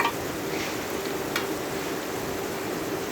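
Sliced onions frying in oil with cardamom and bay leaf while cooking desi chicken with potatoes, a steady soft broadband sizzle running evenly throughout, close and continuous with no talk.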